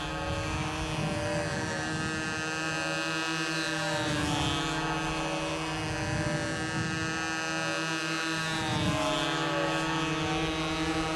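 A model airplane engine flies at a U-control nationals contest, making a steady, continuous nasal drone with a slight rise and fall in pitch as it circles, moderately distant and without voices.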